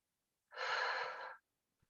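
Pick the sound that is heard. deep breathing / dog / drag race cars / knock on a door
deep breathing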